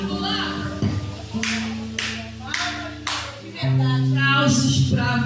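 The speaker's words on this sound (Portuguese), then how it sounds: "aplausos pra você" A church congregation at a family worship service claps over sustained keyboard chords, with several sharp, loud hand claps spaced about a second apart and a voice in the background.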